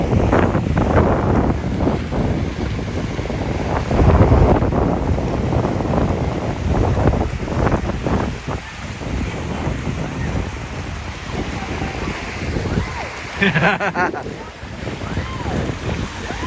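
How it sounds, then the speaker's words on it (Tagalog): Heavy wind buffets the microphone as a boat rides the sea waves near Boracay, with loud continuous rushing, the surge of water and rolling swells throughout. "You can feel the waves coming up and down."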